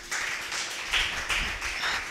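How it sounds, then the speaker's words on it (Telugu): A church congregation claps in a quick uneven patter, a scattered crowd of hands heard at moderate distance with small swells in intensity, and nobody speaks. "గట్టిగా చప్పట్లు కొడదాం"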